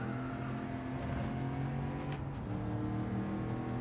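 In Gran Turismo 7, a race car on a time trial lap accelerates out of a corner, engine note holding a steady loud drone and climbing slightly, with a brief whooshing surge partway through.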